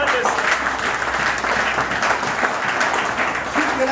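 A church congregation applauds for about four seconds, a dense, steady wash of clapping from many hands at close range with voices mixed in.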